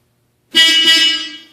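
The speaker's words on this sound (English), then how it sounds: "Honks there." A single sustained car horn blast, loud and close, starting abruptly after a moment of silence and fading slightly toward the end.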